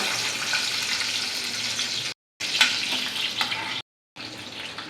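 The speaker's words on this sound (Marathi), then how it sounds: "आता हा ठेचलेला लसूण आपण टाकूया पहिला" Crushed garlic, eight or nine cloves, hits hot oil in a pan for fenugreek greens, a loud steady sizzle with stirring scrapes, broken by two short silent gaps, no voices.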